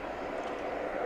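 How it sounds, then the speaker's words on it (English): A Boeing 737-800 airliner arriving at DFW Airport at night: a brief steady engine roar, distant and even, no talking. "the 737-800 coming in from Greenberg, Spartansville"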